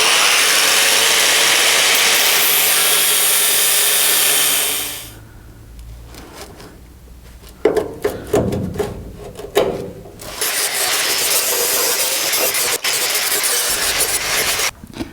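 Power tool cutting out a car's outer sill rocker panel, a loud continuous abrasive whine, a quieter pause filled with scraping and clanks, then the harsh grinding resumes for several seconds.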